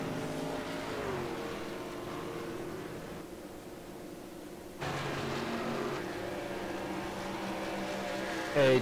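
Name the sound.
race car engines from a video game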